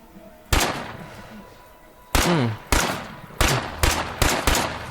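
Single loud gunshots in State of Decay 2, five sharp blasts spaced irregularly with ringing decays between them, and a faint voice low underneath.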